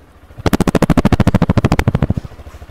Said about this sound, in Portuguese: Olha o som do motor dessa máquina.